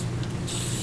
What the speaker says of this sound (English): a little bit of my silicone spray down in here